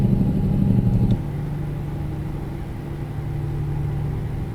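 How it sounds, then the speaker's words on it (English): A truck in American Truck Simulator engine-brakes with its Jake brake, a loud, throaty rumble that cuts down abruptly about a second in and then drones on more quietly and evenly. "Use the good old Jake brake, engine brake, whatever you want to call it."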